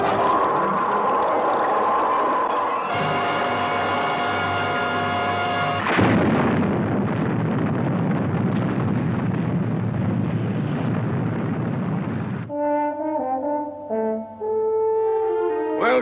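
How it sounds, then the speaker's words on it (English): Sting missile firing and exploding in the Stingray puppet series: a loud sustained launch roar that builds into a dense, rumbling blast lasting several seconds, then gives way to tonal music-like sounds at the end, no talk. "Right, fire Sting missile."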